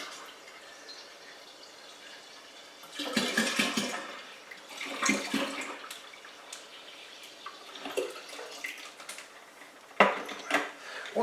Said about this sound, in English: now we're going to pour the rest of this 5 litres of water